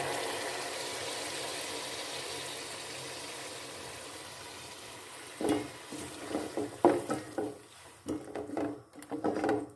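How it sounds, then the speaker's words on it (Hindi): Blended tomatoes are stirred into frying meat for palak gosht. A quiet pan sizzle gives way to a run of scraping, sloshing stirring strokes in the second half. "अब इसमें हम टमाटर ऐड करेंगे जो मैंने ब्लेंड कर लिए थे।"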